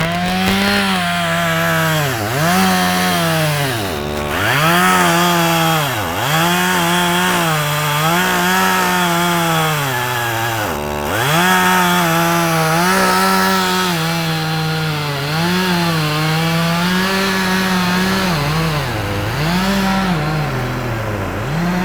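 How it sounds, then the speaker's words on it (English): A chainsaw cutting wood in a campus forestry lab runs loud and close throughout, its engine repeatedly bogging down and revving back up as it bites through the log, with no talking. "the heavy equipment and the chainsaw"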